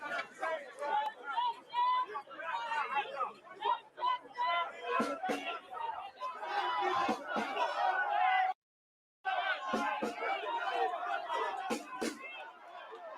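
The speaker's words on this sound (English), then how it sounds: "there's a big, massive crowd coming in there now" A large crowd in Central London, gathered where veterans are defending the Cenotaph, fills the air with dense, close chatter and overlapping voices, a continuous hubbub with a brief dropout partway through.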